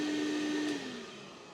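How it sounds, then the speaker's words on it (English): A vacuum pump on a Raptor portable particle analyzer with a dry powder module runs with a steady, close whirring hum, then winds down as the motor shuts off partway through. "what I'll do is I'll just turn off the vacuum"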